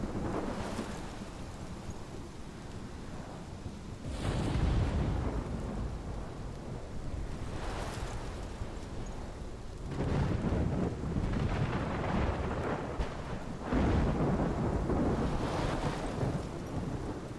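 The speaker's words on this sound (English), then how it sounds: "This is my storm." Thunderstorm in the video game Life Is Strange: steady rain and wind with several heavy rolling thunder crashes building and fading across the stretch, loud and without voices.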